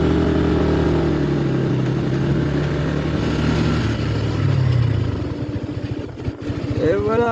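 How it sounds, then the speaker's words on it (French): A Honda 125 scooter engine drones steadily while riding across the Rhine, a continuous close motor hum with wind noise that eases slightly near the end. "c'est la première fois avec le scooter que je vais traverser le Rhin"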